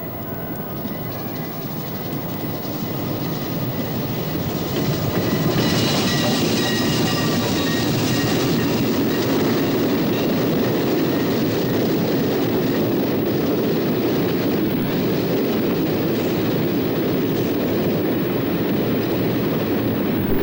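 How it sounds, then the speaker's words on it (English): A train rumbles steadily past, a loud continuous roar of wheels and rail noise that swells slightly partway through and holds without speech. "we were able to pick up the sound of the train in the far distance"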